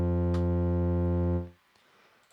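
A sustained Roland synthesizer tone with a 12 dB low-pass filter set to about 12 o'clock, steady and bright with rich harmonics, then cut off abruptly into near silence.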